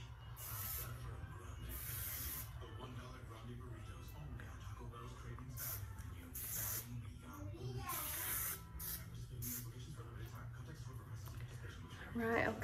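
Hairspray sprayed onto loosely waved hair after flat-iron styling, heard as repeated short hissing bursts across the clip, close by and under a steady low hum, with someone talking throughout.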